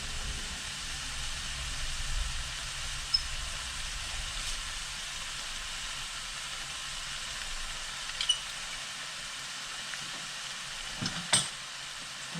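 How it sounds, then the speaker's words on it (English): Shrimp frying in a pan with fresh lemon juice, a soft steady sizzle with a few small clicks and stirring knocks, close and continuous without talk. "We'll kind of cook this shrimp down a minute"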